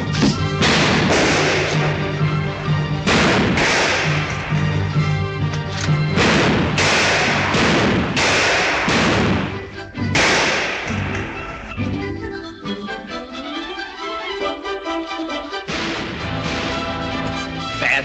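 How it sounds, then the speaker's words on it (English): Gunfire in a 1948 comedy western film crackles in a rapid series of sharp bangs and thuds, densely packed at first, then a short lull before more shots. "He's doing some mighty fancy shooting."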